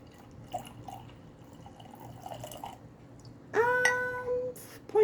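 Warm water pours into a measuring cup in a brief, bright gurgling stream near the end, rising in pitch as the cup fills, after a quiet lead-in with faint drips.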